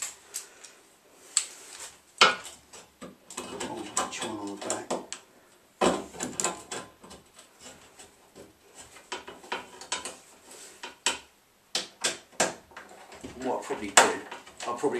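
A ratchet tightens bolts on a trailer in a garage, giving bursts of sharp, close mechanical clicks separated by short pauses and handling knocks.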